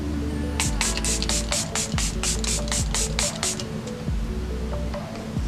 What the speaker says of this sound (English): Some setting spray.